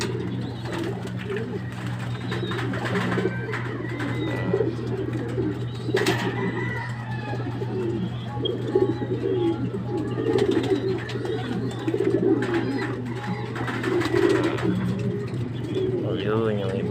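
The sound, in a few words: released stock pigeons flying and cooing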